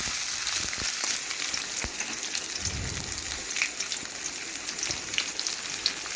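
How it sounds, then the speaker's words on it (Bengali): Paneer pieces frying in hot oil in a home kitchen, giving a soft, steady sizzle with faint crackles and occasional stirring clatter, heard alone without talk. "পনিরগুলো এখন আমি নাড়াচাড়া করে একটু লাল লাল করে ভেজে নিচ্ছি।"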